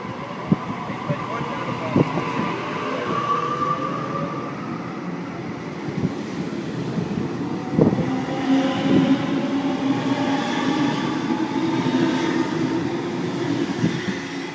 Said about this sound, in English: Arriving in a platform number 4, we have a Tangara